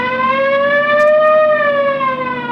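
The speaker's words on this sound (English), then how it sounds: "You want to hit the siren?" A police car siren wails steadily and loud, its pitch rising and gently falling in a single sustained tone with no talk over it.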